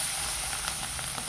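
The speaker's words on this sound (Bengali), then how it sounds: "তেল গরম হয়ে গেছে, এখন আমি চিংড়ি মাছগুলোকে ভেজে নেব।" Prawns frying in hot oil in a pan, a steady bright sizzle with faint crackling pops running throughout, close and continuous, with no talking.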